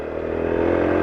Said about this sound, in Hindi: चलते हैं, इस बाइक को चला के देखते हैं।